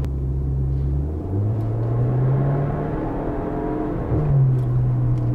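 A tuned Audi A4 accelerates, heard from inside as a steady low engine drone and rumble that climbs in pitch through the gears, close and continuous with no talk.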